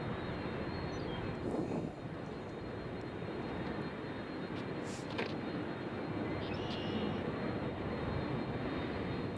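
Steady, broad roar of jet aircraft at Nashville International Airport on a windy day, a continuous engine rumble filling the whole stretch with faint higher whines drifting over it, no talk.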